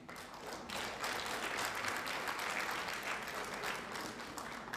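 Audience applause at an innovation champions awards event for local economic development, a dense steady wash of many hands clapping throughout, moderately distant and with no speech over it.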